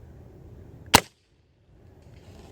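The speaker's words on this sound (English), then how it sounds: "Very nice trigger pull." A Hammerli 850 Air Magnum CO2 rifle fires with a single sharp, loud crack after its two-stage trigger breaks, and near-silence follows.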